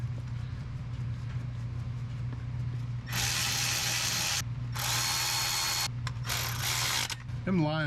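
A power tool runs the turbo pedestal bolts on a 7.3 PowerStroke diesel, making three loud, steady bursts of mechanical whirring close by over a constant low background hum.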